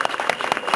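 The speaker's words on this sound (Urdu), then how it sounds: "خداوند یسوع کے جلال کے لیے زوردار تالیاں بجائیں" Applause from a church congregation during a worship service, a dense burst of many hands clapping at an even level throughout the short moment.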